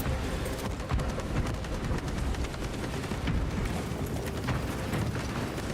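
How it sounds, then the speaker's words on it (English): A frag grenade goes off in Warhammer 40K: Space Marine 2 amid a dense, continuous battle din of gunfire and crackling blasts, loud and sustained with no distinct pauses. "Frag detonator out!"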